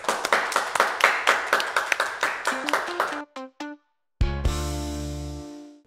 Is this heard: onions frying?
no